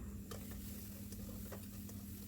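Dry spice powder fries quietly in a pan for a chicken with sesame dish, with a soft, low sizzle and occasional light scraping stirs against a steady background hum.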